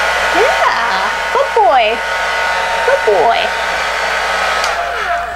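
A dryer set on low blows a steady, airy hiss onto a dog during grooming. The whoosh runs unbroken beneath a person's soft, warbling praise.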